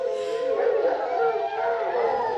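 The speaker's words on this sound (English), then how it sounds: "That's a hound." A hound howls in a long, sustained, wavering wail that rises and falls, close and fairly loud, holding steady throughout.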